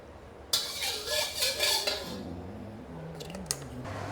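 Metal utensils scrape and clatter against a pan as garlic and shallots stir-fry in a little oil, a busy burst, then fade to a faint voice and a couple of light clinks.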